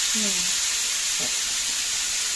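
Vanjaram fish slices frying in spiced oil in a pan, a dense steady hiss with one soft flip-and-drop clunk midway and a brief voice early on.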